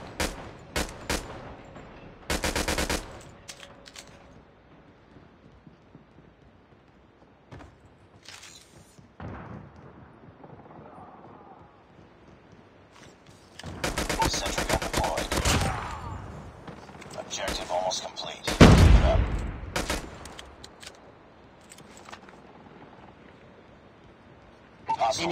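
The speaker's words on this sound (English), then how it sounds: "sentry gun deployed." Automated sentry gun fire in a video game, several separate bursts of rapid shots, loud and close, with game voice announcements and quieter stretches between bursts.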